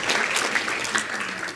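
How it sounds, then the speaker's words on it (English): Summit plenary audience applauding facilitators and one another, a short burst of sustained clapping with a few louder individual claps standing out. "I'd like everybody to give a round of applause to our great facilitators and to"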